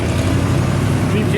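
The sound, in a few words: hot rod truck driving past at car cruise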